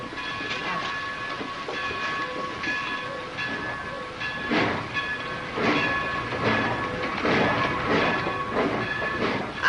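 A train rolls past with a steady rumble and wheel clatter that swells slightly toward the end, while horn-like tones sound over it.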